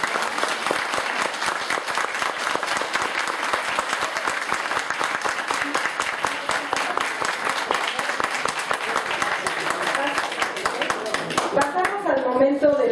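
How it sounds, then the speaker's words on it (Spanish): Audience applause for three debaters at a philosophy olympiad, a steady dense clapping from a crowd that runs loud and continuous for several seconds before thinning out near the end. "pues un aplauso para los tres proponentes"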